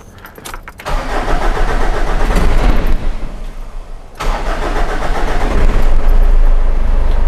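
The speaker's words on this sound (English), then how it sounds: "now let's go and start the car and let's see if the smoke's cleared" A Ford Ranger 3.0 diesel that blows black smoke and is hard to start cranks in two long, close, rhythmic bursts, then catches and settles into a loud, rough idle.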